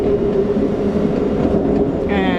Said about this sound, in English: and here we enter another tunnel.